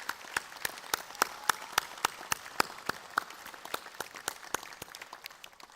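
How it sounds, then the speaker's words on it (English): Scattered, distinct hand claps ring through a university graduation auditorium in Townsville, the sharp individual claps spaced fairly evenly and thinning slightly toward the end, with no speech over them. "Graduates, please join me in applauding these special people for their significant contributions."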